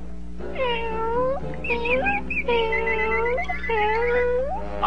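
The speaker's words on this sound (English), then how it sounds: "The canary is beginning to sound like a kitten." A cartoon canary chirps and trills in a kitten-like meow, several drawn-out rising and falling mews in a row, close and clear over a steady background hum.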